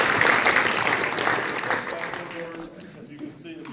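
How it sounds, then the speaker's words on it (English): Applause at a boys basketball end-of-season awards banquet, a burst of clapping from the audience that fades over a few seconds as a voice begins talking. "Okay, so round of applause."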